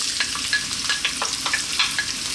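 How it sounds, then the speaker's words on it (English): Onion frying in oil over high heat gives a steady close crackling sizzle with frequent small pops and spits, continuous and fairly loud throughout, with no talking. "Next up, let's drop in our onion."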